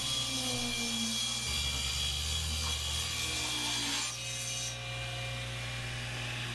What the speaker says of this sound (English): Then I like to joint one edge